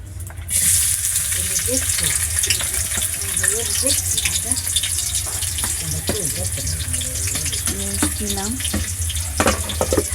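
Oil hits a hot pan and sizzles hard at once, a loud constant frying hiss with spatter and clinks while a voice speaks over it.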